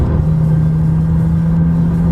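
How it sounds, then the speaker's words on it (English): A 2017 McLaren 570 engine hums steadily at close range with a low, droning tone as the car downshifts through its paddle-shift gearbox, with no clear rev spike standing out. "If I push forward on the right pedal to downshift"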